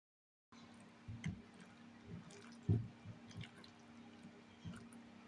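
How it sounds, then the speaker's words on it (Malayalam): Cauliflower pieces are stirred into a thick bajji batter, making faint, close wet squelches and soft plops at an irregular pace, quiet and without talk. "ഇതിലേക്ക് കോളിഫ്ലവർ ഇട്ട് കൊടുത്ത് നല്ലവണ്ണം മിക്സ് ആക്കാം."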